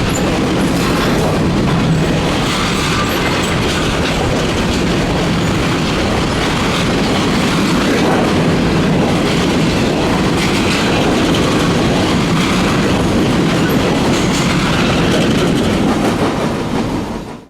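A Norfolk Southern freight train of coal hoppers rolls steadily past beneath an overpass, loud and close throughout, with continuous rumbling wheels and rhythmic clickety-clack over the rails, easing off only at the very end.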